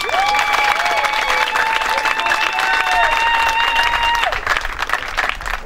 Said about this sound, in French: Applaudissez pour ma fille.